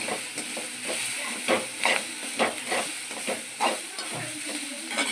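Pirandai (adamant creeper) sautéing with asafoetida in a hot pan: steady close sizzling and hissing, with soft scraping stir strokes recurring about every half second.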